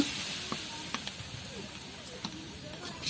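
Taki fish curry in a hot oiled pan hisses with a steady, soft sizzle as broth goes in, broken by small crackles and pops, while someone talks over it.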